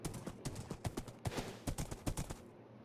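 Rhythmic clip-clop of horse hooves in Minecraft, a steady run of sharp, fairly close hoofbeats repeating about every quarter second for nearly three seconds before stopping.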